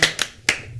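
Three sharp hand claps spaced apart, close and fairly loud, from a small group in a casual talk-show setting, with no talk over them.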